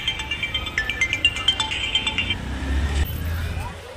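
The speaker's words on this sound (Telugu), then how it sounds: "మనోడే ఫోన్ చేస్తున్నాడు" A phone ringtone from an incoming call plays as a repeating tonal melody for about two seconds, heard amid outdoor traffic and crowd noise near a temple.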